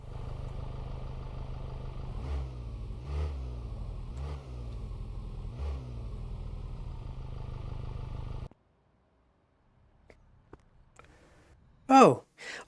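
A sleeper car dressed as a family saloon in the video game Car Mechanic Simulator 2026 revs with a rough, throbbing engine note in rhythmic surges for several seconds, then cuts out, followed by near silence and a few brief noises.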